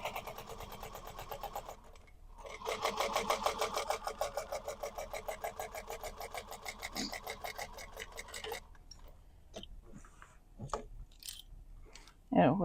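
A sewing machine stitches a second row along the bottom-panel seam of a handmade bag, a steady rapid whirring run of stitches that stops and starts, then gives way to a few light clicks and handling sounds.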